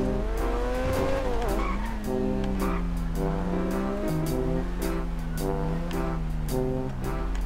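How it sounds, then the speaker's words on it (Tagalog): Car engine in GTA V running loud and steady, with pitch rising and falling through revs and gear changes, backed by tire squeal and road rumble throughout. "Pakinggan, pakinggan yung mga kababayan oh. Ganda yung andar niya."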